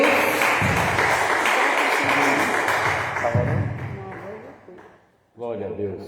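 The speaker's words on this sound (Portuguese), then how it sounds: "aplauda Jesus que está aqui." A church congregation applauds together during a service, a steady wash of clapping for about four seconds that fades out, with voices audible under and after it.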